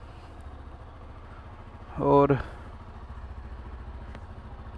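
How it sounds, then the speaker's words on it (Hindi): A TVS Apache RTR 160 4V motorcycle idles low and steady just after a cold start on a morning in Rishikesh, with a brief burst of speech in the middle. "कोल्ड स्टार्ट अपनी बाइक हो गई है।"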